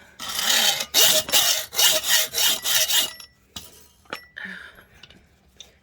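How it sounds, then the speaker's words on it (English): A hacksaw cuts an aftermarket foot for a chain stitch embroidery machine held in a vise: about six loud, rhythmic rasping strokes close by, then a pause broken by light clinks and scrapes. "All right, back with the hacksaw."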